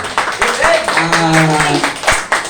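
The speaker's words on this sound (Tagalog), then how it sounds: "Palakpak po sa Panginoon!" Congregation clapping during a Sunday church service, a bright wash of applause beneath a loud speaking voice and some sung or sustained vocal tones.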